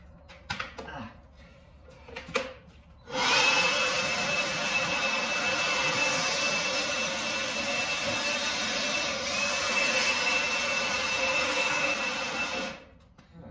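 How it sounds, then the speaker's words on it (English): Compressed air blasts debris out of a hot rod in a workshop: faint clatter first, then a loud, steady, broad hiss runs unbroken for about ten seconds before cutting off. "Let me blow some of this shit out of here."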